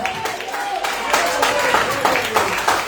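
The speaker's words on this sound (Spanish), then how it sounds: "¿Puede dar un aplauso al Señor?" A church congregation claps and applauds together, a steady dense wash of hands that swells after the first second and stays loud, with a few voices mixed in.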